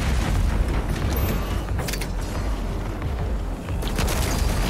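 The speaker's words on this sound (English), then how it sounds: "I hear gunfire." Gunfire and explosions in the video game DOOM Eternal on Nightmare difficulty, with dense booming shots and blasts in loud bursts through a rumbling battle background, with no talking.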